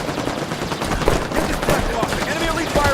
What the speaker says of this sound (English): Enemy elite firing on me!